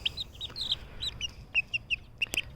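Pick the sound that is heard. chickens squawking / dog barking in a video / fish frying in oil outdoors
chickens squawking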